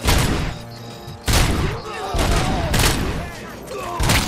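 Sustained covering gunfire in the RoboCop: Rogue City video game, with repeated broadband bursts of automatic shots and thumps rolling across the clip, loud and close, with shouted voices mixed in.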